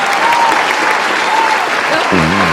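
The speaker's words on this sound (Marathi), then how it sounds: "पंडितजींसाठी एकदा टाळ्या होऊन जाऊ दे जोरदार टाळ्या होऊन जाऊ दे" An audience claps loudly and continuously throughout, with a brief tone and a voice entering near the end as the clapping carries on.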